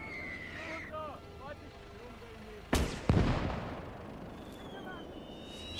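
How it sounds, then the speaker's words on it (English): Two sharp sniper rifle shots ring out close together in the WWII game Gates of Hell, during a hardcore Soviet skirmish at Seelow Heights. Each crack decays into a rumbling tail over a low battlefield ambience with faint voices. "I'll wipe these three guys out with the sniper"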